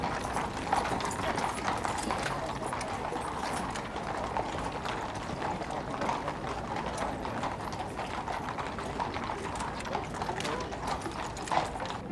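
Horses' hooves clip-clop steadily on a parade route during Trooping the Colour in London, a dense, continuous clatter of many hoofbeats with crowd murmur underneath.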